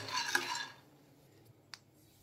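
Roasted gram (pottukadalai) is tipped into a mixer jar: a soft, brief rattle of dry grains in the first half-second, then quiet and one light clink, all faint.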